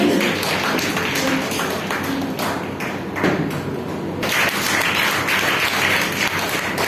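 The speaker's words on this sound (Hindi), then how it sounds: "जोरदार तालियों से स्वागत करें" Audience applause at a Hindi poetry book launch and award ceremony, a dense, steady wash of clapping that fills the whole stretch at moderate loudness with no talk over it.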